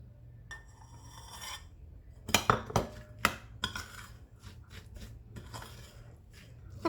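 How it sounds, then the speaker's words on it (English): A utensil scrapes and stirs cake crumbs together with butter and brown sugar in a bowl, making sharp clinks and rasping strokes. The bursts are irregular, close and fairly quiet, with no talking. "So we're gonna combine the crumbs with the butter and the brown sugar"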